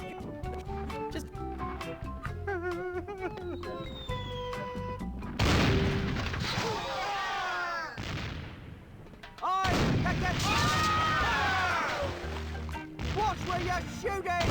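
Pirate-ship cannon fire and gunshots in The Curse of Monkey Island, heavy booms and shots breaking in repeatedly over music, with character voices talking between the blasts.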